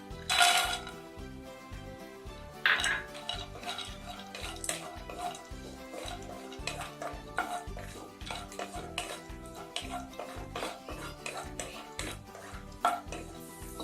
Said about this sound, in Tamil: முந்திரி பருப்பை பொன்னிறமாக வறுத்து எடுத்துக்கலாம்.